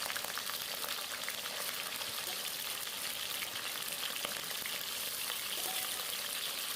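Chicken pieces fry in warm mustard oil with a constant, even crackling sizzle close by and no pauses from start to finish.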